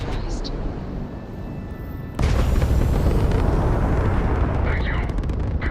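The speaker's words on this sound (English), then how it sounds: "Retros firing." Spaceship retro thrusters firing in Starfield: a broad rumbling roar that jumps abruptly louder about two seconds in, then holds as a steady, dense blast, with a voice faintly present.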